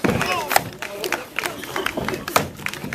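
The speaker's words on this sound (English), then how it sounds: "Make some noise for him. Cheer him on." Spectators at an underhand axe chopping event during a US title heat at Snowshoe cheer and shout in bursts for a contestant, a busy layered crowd noise with sharp peaks and a few short claps.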